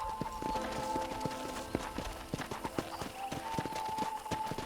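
Clip-clopping horse hooves from the video game Red Dead Redemption, a steady close rhythm of hoof strikes on hard ground over a sustained musical drone, with no talk.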